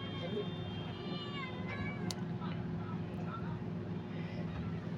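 A pet cat meows several times indoors, a few fairly close rising calls over a steady low hum.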